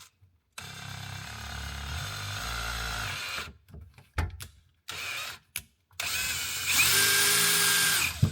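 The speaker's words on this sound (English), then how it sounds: "now using 1/4 inch drill bit" A power drill with a 1/4 inch bit whirs in several bursts, starting and stopping, its pitch rising as it bites into a plastic drain pipe, with a sharper whine in the final run.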